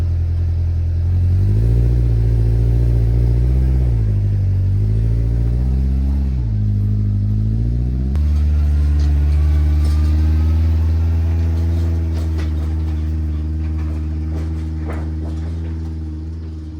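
A heavy machine, likely a tractor or skid steer working at a swamp deer blind build site, runs loudly and close with steady low engine drone, shifting pitch as it drives off and pulls in low.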